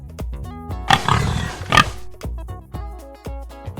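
A pig on a farm grunting and oinking in a run of close, loud snorts with two longer squealing bursts in between.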